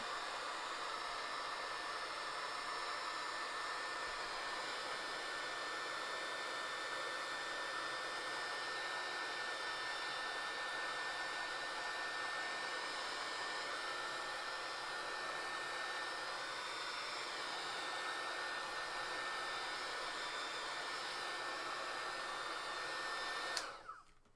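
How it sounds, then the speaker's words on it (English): A heat tool used for art blows hot air in a steady, loud, unbroken roar lasting about 24 seconds, then cuts off abruptly at the end. "The heat tool."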